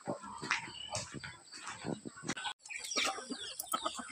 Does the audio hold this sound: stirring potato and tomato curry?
no